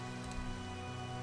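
Steady, soft rain hiss in the video game Minecraft, an even wash of falling drops that holds at one level for the whole moment, with no voices over it.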